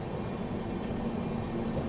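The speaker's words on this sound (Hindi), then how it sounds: "आगे भी देखो मुंबई से ट्रेन निकल रही है और लोकल ट्रेन के साथ पैरेलल चल रही है" Train pulling out of Mumbai at night, running parallel to a local train: a steady, loud rumble of wheels and carriage noise with a low hum, continuous and close throughout.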